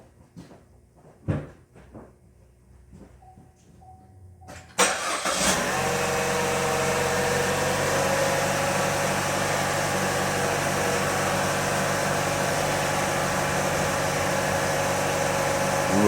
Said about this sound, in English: then just start the car up